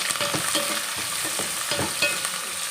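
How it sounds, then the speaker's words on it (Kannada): Onion, curry leaves and green chillies fry in a pan with a lively crackling sizzle, punctuated by repeated scraping strokes of a spatula stirring close up. "ಈರುಳ್ಳಿ ಕರಿಬೇವು ಸೊಪ್ಪು ಹಸಿಮೆಣಸಿನ್ಕಾಯಿ ಮೂರು ಹಾಕ್ತೀನಿ ಚೆನ್ನಾಗಿ ಫ್ರೈ ಮಾಡ್ಕೋಬೇಕು"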